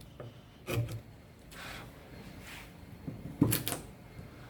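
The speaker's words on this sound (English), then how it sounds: "I'm just running my sharp chisel edge" Sharp chisel paring out pockets in a wooden external stair stringer: a few faint, brief rasping scrapes and rubs of steel on wood, separated by quiet pauses.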